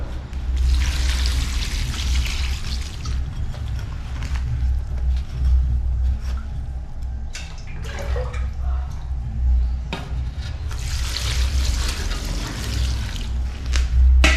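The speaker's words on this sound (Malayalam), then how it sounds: "നമ്മൾ അതേ വെള്ളം തന്നെ, ഉപ്പിലിട്ട വെള്ളം തന്നെ ഇതിലേക്ക് ഒഴിക്കുന്നത്" Salted brine water poured into a mango and mustard pickle, a soft trickling and dripping of liquid that comes and goes, close by, with faint background noise and some talk.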